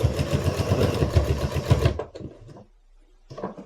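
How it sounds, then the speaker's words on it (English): A sewing machine stitches the binding on a quilt in a loud, steady burst of rapid needle strokes for about two seconds, then stops, followed by a few short bursts of stitching. "I'm going to stitch up to here, and then I'm going to back stitch where I started."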